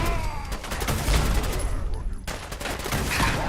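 Missiles launch rapidly in a video game as a dense, continuous barrage of booming blasts and crackling impacts, loud and layered with brief high tones and a sudden cut partway through.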